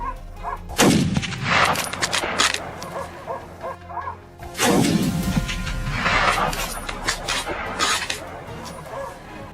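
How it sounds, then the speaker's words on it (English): Loud rifle shots aimed at a feral hog ring out outdoors, two sharp reports with long echoing tails, while dogs bark and yip around them. "Marcus takes aim, and with a single shot, he brings the hog down."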